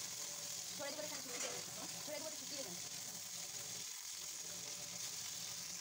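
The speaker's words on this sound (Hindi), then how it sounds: "तो अब मैं इसे इसी तरीके से फ्राई करूँगी और 4 से 6 मिनट के लिए" Green chillies fry in hot oil for a pickle, giving a soft, steady sizzle with occasional stirring sounds, faint overall, while someone talks over part of it.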